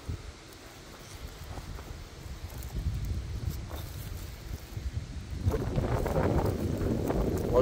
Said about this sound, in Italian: Oggi, ragazzi, tira un vento pazzesco.